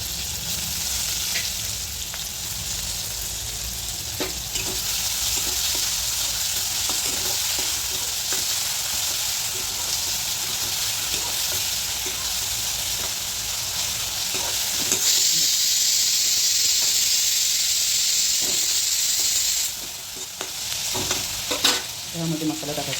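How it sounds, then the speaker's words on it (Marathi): Onion and tomato frying in a pan for a village-style vegetable curry, a steady loud sizzle with occasional stirring scrapes, rising to a brighter hiss partway through as the tomato goes in. "हे आपले कांदा थोडा थोडा गोल्डन झालेला आहे त्याच्यामध्ये आपण टाकायचं आहे"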